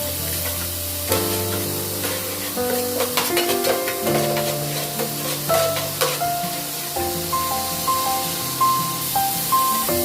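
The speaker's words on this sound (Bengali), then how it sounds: "মশলাটা এখন আমি একটু কষে নিতে থাকবো।" Spice paste for begun paturi, an eggplant dish, sizzles and is stirred in a pan, a steady frying hiss with scraping stirs over a melodic background tune.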